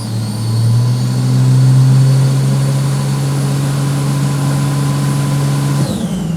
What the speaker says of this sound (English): The exhaust changed, but the induction noise has changed.